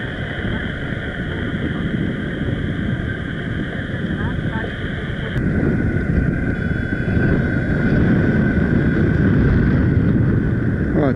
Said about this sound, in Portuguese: Uma ventania danada.